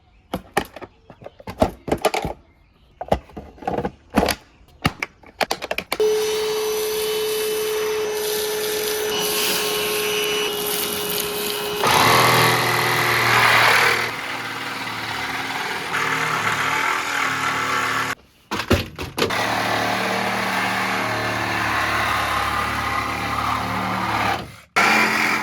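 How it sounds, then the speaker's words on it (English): A vacuum cleaner runs inside a Honda Civic, sucking up small broken glass pieces, a steady loud whine with shifting pitch as the nozzle moves, broken by brief pauses and bumps. "I'm just gonna vacuum the little pieces just to prevent extra, glass falling."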